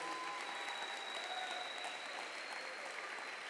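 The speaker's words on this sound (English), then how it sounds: "give a big warm round of applause" An audience applauds steadily and fairly quietly at a high school college signing ceremony, producing a dense, even patter of many hands heard from some distance, with faint voices mixed in.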